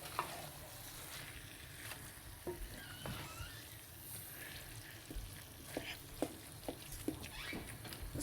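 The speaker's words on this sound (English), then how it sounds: "So now we're mixing." Aloo keema (potato and mince) being stirred in a hot pan, a steady sizzle with intermittent scraping clicks of the spoon against the metal, close and moderately loud throughout.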